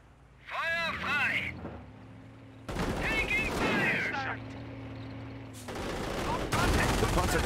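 A half-track's machine gun in Company of Heroes fires in long, dense rattling bursts that alternate with voices talking, and the last burst runs loud to the end.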